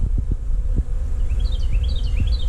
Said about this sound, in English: Pretty nice bees so far.